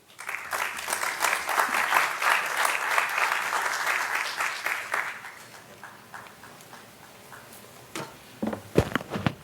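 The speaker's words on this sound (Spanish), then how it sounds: "Recibamos con un fuerte aplauso al doctor Dante Martín Paiva Goiburu." A lecture-hall audience at a talk on constitutional law applauds to welcome a doctor to the podium: dense, steady clapping that fades after about five seconds, followed by scattered footsteps and light knocks.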